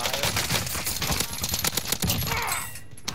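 Rapid bursts of gunfire in the battle royale shooter Warzone Rebirth, a loud, dense fusillade of overlapping shots with sharp cracks that thin out near the end.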